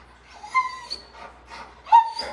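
A dog whimpers and whines in short high-pitched bursts, with soft breathing between them, fairly near and moderately quiet, during a night out.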